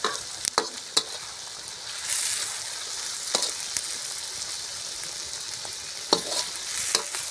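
Tomatoes and green chilies fry in a pan, giving a steady hiss with several sharp scraping stirs of a spoon against the pan, close and fairly loud, with no talk.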